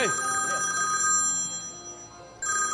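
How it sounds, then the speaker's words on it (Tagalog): A telephone rings loudly on a live noontime variety show set, its harmonic bell tone sustained through the clip and swelling again near the end over background crowd noise. "Ang lakas ng telepono."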